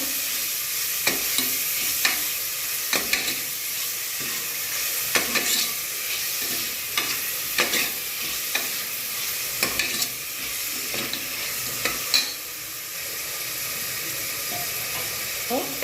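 Vegetables for spiced winter pulao sauté in a pan, a steady broadband sizzle broken by frequent scraping stirs at irregular intervals, close and fairly loud with no talking.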